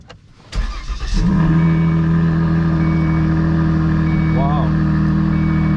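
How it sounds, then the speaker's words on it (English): A Volvo P3 with a 3.0L engine cold-starts: a brief starter crank catches into a loud, steady, high-revving idle that holds close and constant. "Now let's go start the car, see how it runs."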